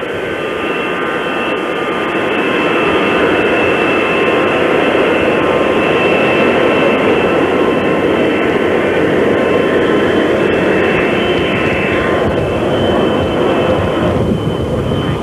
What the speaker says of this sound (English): the noise you hear in the background is that of a commercial jet going out to take